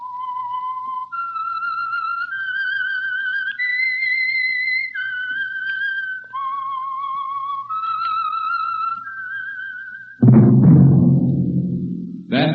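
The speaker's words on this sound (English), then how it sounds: "That whistle is your signal for the Signal Oil Program" A clear, melodic whistled tune for about ten seconds over a low hum, then a sudden loud burst of orchestral music takes over, as the opening signature of the old-time radio drama The Whistler.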